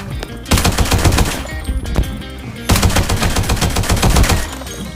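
Loud, dense automatic gunfire in the video game Arena Breakout, with sustained bursts that pause briefly around the two-second mark and then resume, with no speech.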